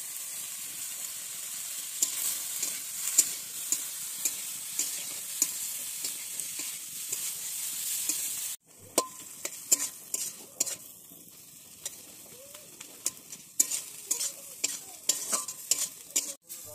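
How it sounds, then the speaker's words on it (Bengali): Dried chillies and whole spices frying in a pan for a chicken curry sizzle steadily while a utensil stirs and taps the pan in frequent sharp knocks; the sizzle drops abruptly midway and continues quieter. "এই দেখো আমার ভাজা হয়ে গেছে, মশলা ভাজা হয়ে গেছে"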